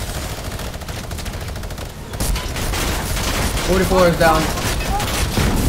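Heavy automatic gunfire in Fortnite rattles in rapid bursts, growing louder and denser partway through, with a player's voice talking over the shooting.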